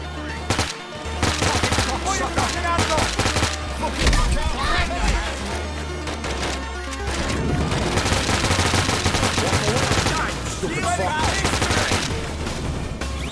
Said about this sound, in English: the Akimbo Chimano combat almost the same as the Akimbo Strike 18C